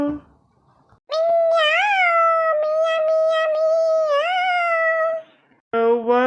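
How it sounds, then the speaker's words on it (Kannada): A cat meows repeatedly in a long, drawn-out, wavering call, loud and close, followed after a short pause by another meow; no talking over it. "ಮಿಯ ಮಿಯ ಮಿಯಾವ್ ಅಂತ ನೋಡು ಪಕ್ಕದಾಗ"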